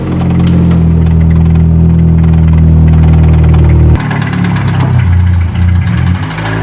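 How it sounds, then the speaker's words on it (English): A car engine with rod knock runs loudly and steadily, with a low, uneven knocking rumble beneath it; the tone shifts abruptly midway, as if the revs change. "It could be rod knock."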